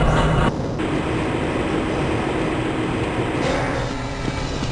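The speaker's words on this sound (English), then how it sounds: "This train is inbound from the Area 8 topside dormitories to the Central Transit Hub in Area 9." Train running through the Black Mesa transit system in Half-Life: Blue Shift, a steady loud rumble of rolling wheels and rail noise that continues throughout with slight shifts in tone.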